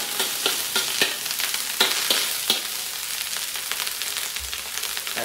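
Rice and golden fried garlic being stir-fried in a hot pan, with steady crackling sizzle and repeated scraping, clattering strokes of a utensil stirring throughout, close and fairly loud.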